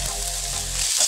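Onions and garlic sautéing in a pan, a brief close crackling sizzle with a steady hiss that swells slightly near the end.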